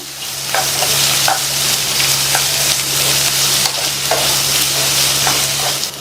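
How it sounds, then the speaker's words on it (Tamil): Two large finely chopped onions sizzle and fry in a pan while being stirred, a loud, steady close-up crackle with scraping stir strokes and no talking. "2 பெரிய சைஸ் பெரிய வெங்காயத்தை பொடியாக கட் பண்ணி சேர்த்து இந்த வெங்காயத்தோட கலர் வந்து நல்லா மாறுற அளவுக்கு வதக்கிக்கணும்"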